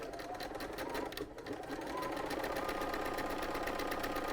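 Close, rapid stitching of a sewing machine joining fabric triangles along a quarter-inch seam, a steady fast rhythm with a brief pause near the middle before resuming.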